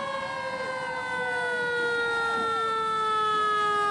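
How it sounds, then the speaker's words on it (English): Police escort sirens wail and sweep steadily, loud and continuous, as a motorcade forms to carry the Patriots to TF Green airport for their Super Bowl LX flight, with the sound swelling slightly toward the end. "Get the sirens going."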